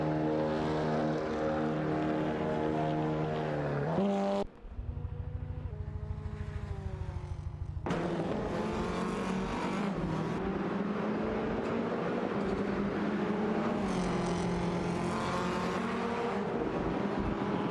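Race cars on a track in an AI racing event produce a loud, continuous engine roar with shifting pitch, briefly dropping out then returning at full volume and staying steady to the end.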